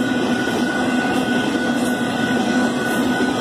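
Union Pacific 8523 freight train passing through rural Saint Elmo, Illinois, a steady rumbling roar of rolling cars and wheels on track, loud and continuous with a sustained tone over it.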